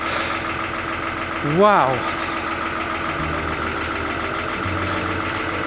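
A Lister engine runs after a cold start, a steady low thumping idle throughout, with a brief exclaiming voice near the start over the engine.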